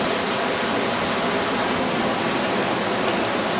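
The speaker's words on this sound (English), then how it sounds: "John's rinsing out the last of the concentrates out of the bucket in his gold pan." Water rinses gold concentrates out of a bucket into a gold pan at Cache Creek, a loud, steady rushing wash with no break and no voices.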